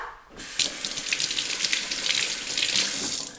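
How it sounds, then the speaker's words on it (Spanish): Piloncillo, a cone of raw cane sugar, rinsed under a running kitchen tap, the water starting abruptly and then gushing and splashing steadily and close, with no other sound. "Tengo un piloncillo, lo vamos a lavar."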